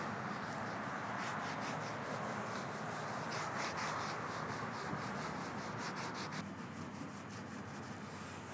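A rag wipes patina sauce across the rusty body of a 1967 Chevrolet C10 truck, a close, steady rubbing swish with repeated back-and-forth strokes and no talking.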